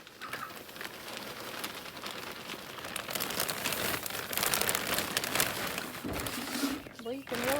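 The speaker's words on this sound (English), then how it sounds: "Well, you can really hear the birds out today." Birds coo outdoors in a garden bed being cleaned up, the soft calls rising near the end over steady crinkling and rustling of a plastic bag.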